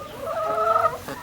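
Backyard chickens cluck in a steady, close run of overlapping calls, moderately loud with no talking.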